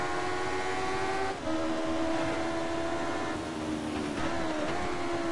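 Sustained mechanical engine whine with a steady tonal drone and shifting pitch from racing cars in the video game TOCA Race Driver 3, revving nearby, loud and continuous without any speech.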